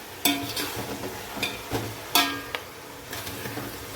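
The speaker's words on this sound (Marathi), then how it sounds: "हा कोथिंबीर पुदिना आम्ही हलवून घेत आहे मस्तपैकी" Coriander and mint being stirred in a cooking pot for chicken pulao, with a faint sizzle under a series of close, sharp scraping strokes at an uneven rhythm; no talking.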